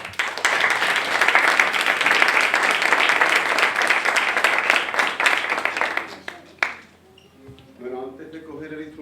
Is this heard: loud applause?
yes